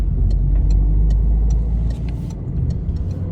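A Peugeot 301 cruises along an open road, its engine giving a steady, close cabin drone with light ticks and road rumble throughout.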